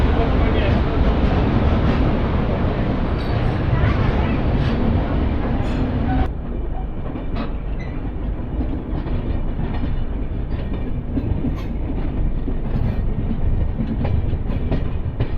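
The Tirumala Express rolls along the rails between Guntakal and Visakhapatnam with a loud, continuous rumble and rhythmic clatter as it crosses from one line to another, heard from on board under occasional talk.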